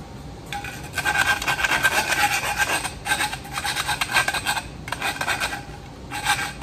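Hand file rasping across the cut end of stainless steel tubing for a truck steering column, in repeated close scraping strokes separated by short pauses, with no talk.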